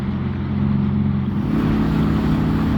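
Boat cruising at about 10 mph in the wake of other boats on a canal, with a steady low engine drone and water rush that grows slightly fuller midway, continuous and close throughout.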